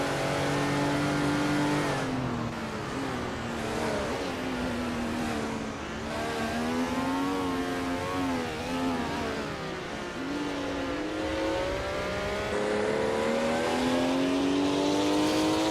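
Race cars in a racing video game rev and whine steadily, engine pitch rising and falling through gear changes, loud and close with no talk.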